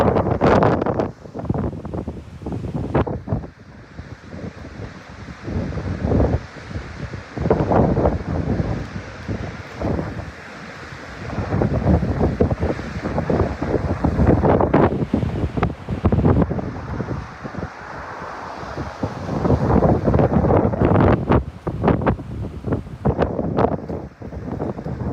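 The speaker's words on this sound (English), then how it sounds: "Got the wind really blowing." Strong windstorm gusts on the Oregon and Washington coast roar loudly and continuously into the microphone, rising and falling in surges with surf rumbling underneath and no talking.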